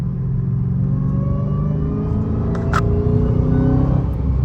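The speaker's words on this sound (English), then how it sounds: "This car is like insanely powerful, bro." A 2021 Dodge Charger SRT Hellcat Redeye WideBody on a night drive gives a loud, steady low engine rumble from inside the cabin, holding a deep droning note with a slight surge toward the end.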